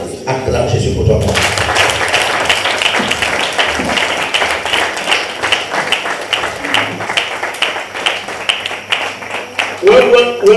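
A church congregation applauding during a French-language worship service, sustained dense clapping that starts after a second and continues steadily, with a voice speaking over it.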